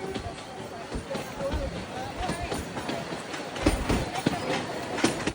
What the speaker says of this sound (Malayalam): ട്രെയിൻ ഇപ്പോൾ റങ്കുവ എന്ന സ്റ്റേഷനിലേക്ക് ഇതാ എത്തുകയാണ്